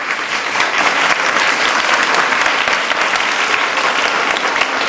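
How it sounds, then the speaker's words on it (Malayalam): Loud, dense clapping from a group of children, an even burst of applause sustained throughout at close range, with a faint crowd murmur underneath. "കൈയടിക്കാൻ പറയാതെ തന്നെ കൈയടിക്കുന്നവരാണ് നല്ല കുട്ടികൾ"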